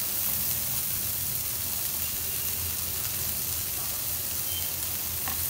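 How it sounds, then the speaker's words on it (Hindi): Chopped onion, capsicum and corn sauté in a pan over a low flame, giving a steady, close sizzling hiss that stays even throughout, with no voices. "ऑनियन चॉप किए हुए, कैप्सिकम एंड कॉर्न। इसको ज़्यादा नहीं, थोड़ा सी सौते कर लेना है।"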